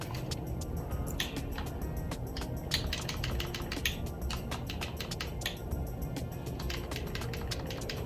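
Computer keyboard typing and button clicking, sharp irregular taps and clicks in quick bursts over a low room hum, with no talking.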